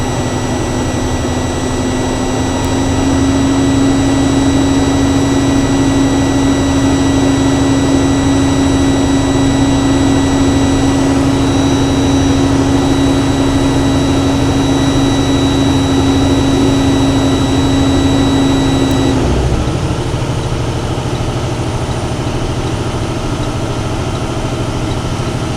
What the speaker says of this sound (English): I'm going to raise the RPMs to 1500 so that I can build my air pressure back up.